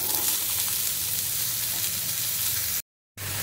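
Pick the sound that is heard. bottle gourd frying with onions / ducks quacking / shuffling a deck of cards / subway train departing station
bottle gourd frying with onions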